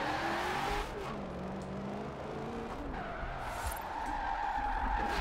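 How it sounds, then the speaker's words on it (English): A Ford Mustang drifts in Forza Horizon 4, driven with a Logitech G920 wheel, its tires squealing in long wavering streaks over a steady engine drone, loud and close, with no talking. "So now we are going to just have a little fun in JTP's Mustang right now"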